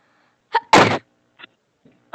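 A single loud sneeze, sharp and close, preceded by a quick intake of breath, followed by a few faint short sounds and otherwise quiet.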